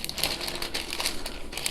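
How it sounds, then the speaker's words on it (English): Butter paper is folded and crinkled by hand over cookie dough, giving a steady, close run of dry papery crackles and rustles lasting under two seconds with no talking. "We will fold the butter paper"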